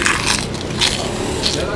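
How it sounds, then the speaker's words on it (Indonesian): Crunchy kerupuk crackers are bitten and chewed close up, a few crisp crackling bites over steady background noise at a roadside rica entok meal. "Kerupuknya pun juga renyah banget."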